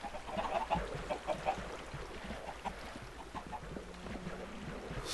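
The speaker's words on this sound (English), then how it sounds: "The chickens have come alive." Chickens clucking in the Minecraft video game, several short soft clucks in an irregular run at the start, then quieter scattered game sounds, all faint.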